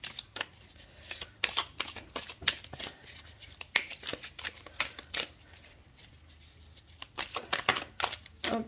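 Tarot cards are shuffled by hand in repeated quick riffling bursts, crisp and close, with short pauses between, alone and without talk.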